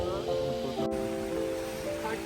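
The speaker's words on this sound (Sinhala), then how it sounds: "හොඳටම වහිනවා" Heavy rain pours at a campsite in Hulangala, a dense continuous hiss of drops on surfaces with a low steady hum underneath and a voice speaking over it.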